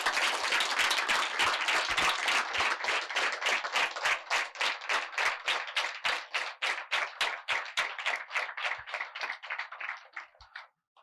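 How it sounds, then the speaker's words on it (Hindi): An audience applauds warmly, the clapping dense and full at first, then thinning into slower, more distinct claps that fade out near the end, fairly close, with no talk. "उसके लिए बहुत सारी तालियां उसको मिलनी चाहिए"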